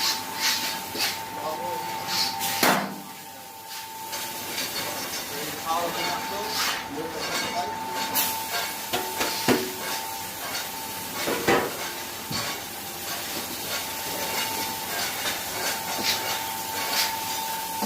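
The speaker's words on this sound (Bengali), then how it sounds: "ছয় কড়াই সিস্টেম, ছয় কড়াইয়ে চাল গরম হবে এবং রোস্টারে মুড়ি ভাজা হবে" A puffed rice roaster machine with a six-pan rice heating system runs with a steady metallic hum and hiss, sharp clanks and rattles of pans recurring at intervals throughout.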